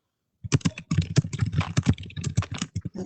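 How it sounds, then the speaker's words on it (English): Rapid typing on a computer keyboard, a close, uneven run of crisp key clicks and clatter after a brief silence, with no voices over it. "it looks like we're only hearing typing"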